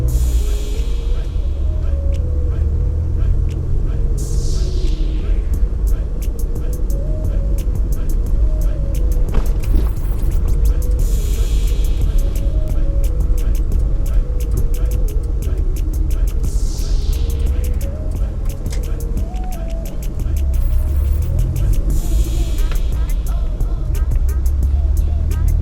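A car drives northeast along a countryside road through Somerset, Manchester, Jamaica, with a steady engine rumble and road noise throughout, plus a faint repeating tonal whine and occasional passing whooshes.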